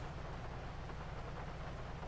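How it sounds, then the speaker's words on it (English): Steady rain drums on a car, heard from inside the vehicle in the video game GTA, as a faint, even hiss over a low rumble with no voices. "the rain sounds legit inside the car"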